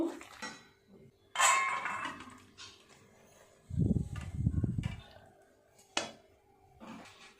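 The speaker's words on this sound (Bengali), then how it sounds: "ফ্যাঁসা মাছের ঝাল হয়ে গেছে, নামিয়ে নেব।" A pot of phasa fish curry is lifted off the stove, with metallic clatters and scrapes of cookware in short bursts, a louder rattling stretch in the middle, and some faint voice nearby.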